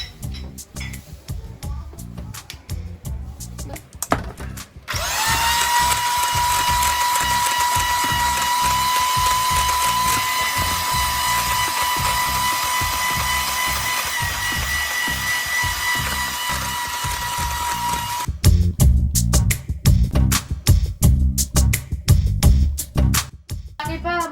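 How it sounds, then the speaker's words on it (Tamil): An electric mixer beats cake batter as flour is added bit by bit, a steady loud whirring drone for about thirteen seconds, framed by clattering and handling sounds before and after. "அதுவும் கொஞ்சம் கொஞ்சமாக மிக்ஸ் பண்ணி அடித்து கொண்டு இருக்கோம்."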